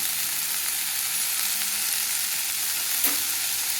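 Cucumber, green chilli, tomato and brinjal pieces cooking in a pan for a sesame roti pickle, salt added and stirred: a continuous soft sizzle with a brief scrape of stirring near the end.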